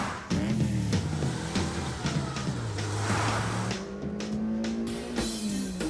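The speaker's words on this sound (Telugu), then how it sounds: "మీ కార్ని కాస్త వేగంగా పోనివ్వండి." A cartoon car speeds away with a loud, continuous engine roar that rises in pitch, with tire-squeal accents, close and steady throughout with no talking.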